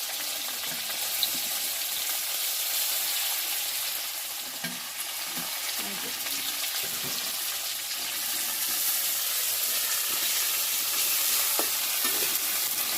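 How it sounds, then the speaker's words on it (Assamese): Paneer cubes sizzle steadily in hot oil in a pan, a constant bright frying hiss with occasional soft stirring scrapes, close and unbroken throughout. "এইটো ৰঙা হৈ যোৱাকৈ ভাজিব লাগিব।"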